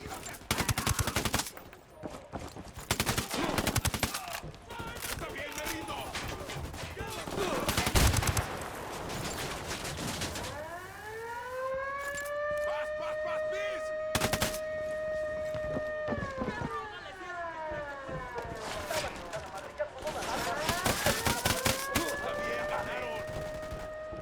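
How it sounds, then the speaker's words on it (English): Gunfire in Ghost Recon Wildlands, with rapid automatic bursts and single shots over a wailing siren-like tone in the middle, loud and repeated throughout. "I'm shooting these fuckers."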